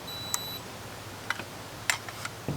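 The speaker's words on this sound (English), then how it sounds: "It should beep." RVLock keyless RV entry door handle lock giving short electronic beeps as it is plugged in: a brief high beep near the start followed by a few faint clicks and ticks, quiet and close in a still room.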